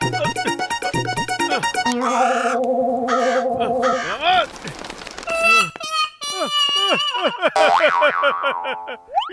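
Loud cartoonish crow caws from an animated cartoon repeat rapidly, mixed with springy boing effects and bright musical tones.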